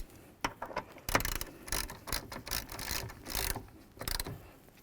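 A ratcheting hand tool tightens a fastener on the seat switch panel of a 2008-16 Chrysler Town & Country, close and loud bursts of rapid clicking in uneven spurts with short pauses between.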